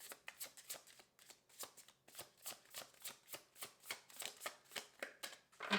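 A deck of tarot cards being shuffled by hand, a quiet, close series of crisp riffling bursts in a steady rhythm, roughly two or three per second, with no talking.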